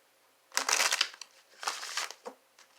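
Quiet papery riffling in two short bursts, like a deck of tarot cards being shuffled close by, with no voices.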